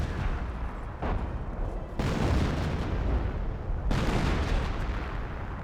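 A demolition charge detonates in Company of Heroes amid dense battlefield noise, with deep booming blasts and a continuous rumbling wash of distant gunfire and explosions.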